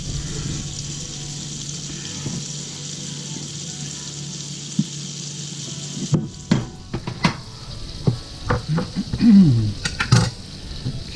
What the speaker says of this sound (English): I'm going to put in 2 tablespoons of butter in each pan